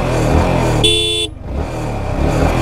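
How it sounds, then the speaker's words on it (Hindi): A single loud, steady horn blast sounds for about half a second at the start of a drag race between a Yamaha R15M motorcycle and an Ather 450X electric scooter, over continuous close engine and road noise. "मैं पहला हॉर्न दे रहा हूँ"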